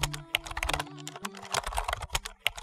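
Fast, uneven clatter of keys on a computer keyboard as a command is typed, close and fairly quiet, with a few sharper key strikes standing out and no talking.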